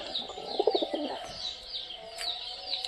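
A pigeon in a loft gives low, throaty coos with a few soft chirps from other birds, close and fairly quiet, with no talking.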